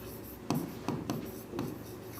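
Chalk or marker strokes on a classroom board, a few quick scratchy bursts in an uneven rhythm, close and fairly quiet with no talking.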